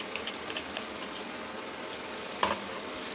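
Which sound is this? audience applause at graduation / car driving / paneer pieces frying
paneer pieces frying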